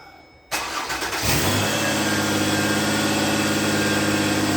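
A Ford Escape engine cranks briefly on the key, catches and settles into a steady idle with a faint belt whine, close and loud, with no talk.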